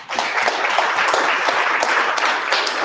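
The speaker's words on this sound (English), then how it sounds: "Round of applause," A small startup pitch-event audience breaks into a round of applause, crisp close claps rising quickly and sustained at a lively, even pace.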